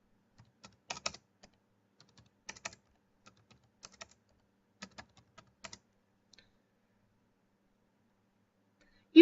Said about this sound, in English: Begin typing in your data.